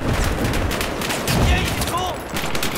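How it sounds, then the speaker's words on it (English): Mortar fire in Battlefield 4, a loud, dense barrage of distant explosions and gunfire rumbling continuously with overlapping bursts. "I'm just mortaring people right now"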